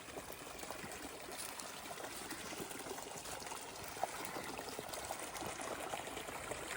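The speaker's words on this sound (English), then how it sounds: "A nice little water crossing here." Stream water trickles and babbles at a trail crossing on the Appalachian Trail, a steady, close, broadband rush of flowing water with no voices.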